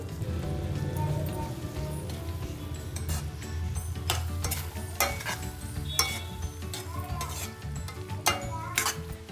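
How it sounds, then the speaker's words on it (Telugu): Cooked rice mixed with Schezwan sauce being stirred in a wok for Schezwan fried rice, with continuous scraping and sizzling, repeated sharp clinks of a spatula against the pan, close and steady. "పొడిగా వండుకున్న అన్నాన్ని మనం బాండీలో వేసేసి కలుపుకుందాం"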